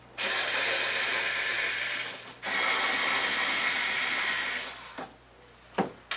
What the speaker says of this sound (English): We're going to remove the 4 screws at the meter end.